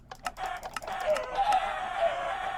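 Minecraft chickens on a chicken farm cluck and squawk in quick bursts of clucks, then a steadier stream of chicken calls, heard close and alone.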